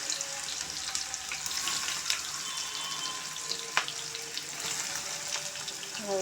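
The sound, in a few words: bitter gourd frying in hot oil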